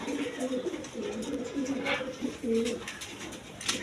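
Two pairs of pigeons at a market stall give low, repeated throaty coos in short phrases close by, with a voice talking alongside.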